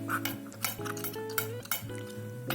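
A spoon stirs squeezed lemon juice and honey together, giving a string of sharp clinks and taps against the container over soft background music.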